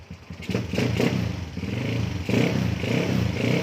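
A Honda Wave 125 motorcycle engine, just after carburetor tuning, rises from idle into repeated throttle revs, close up with a rough, humming drone and a few clattery mechanical knocks.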